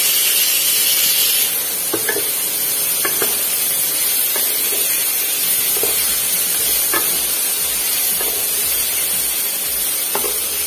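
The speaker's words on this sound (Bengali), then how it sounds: "তো ওদিকে উচ্ছে ভাজা হচ্ছে," Bitter gourd fries in oil in a pan, a loud continuous sizzling hiss close by with soft periodic stirring taps, no speech.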